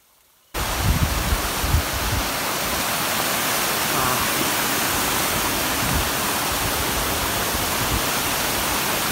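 A small waterfall on a monsoon trek to Torana Fort, running low, gives a steady, close rushing hiss that begins abruptly and then holds even throughout.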